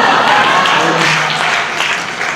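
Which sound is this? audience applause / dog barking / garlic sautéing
audience applause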